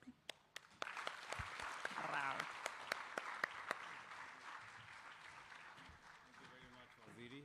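An audience at a manufacturing expo at KICC, Nairobi, breaks into sustained applause for the President, steady clapping that swells and then gradually tapers, with a few sharp louder claps near the start.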